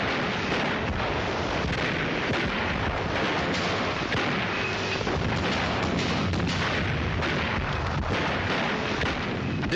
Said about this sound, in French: le général Delattre va jeter dans les montagnes tout le poids de ses chars et de son artillerie